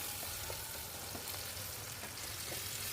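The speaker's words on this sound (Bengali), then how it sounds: "টমেটোটা দিয়ে বেশ খানিকক্ষণ ভেজে নেব।" Chopped tomato, onion and slit green chilli frying in oil for a tuna curry, a steady close sizzle with soft crackles throughout and no talking.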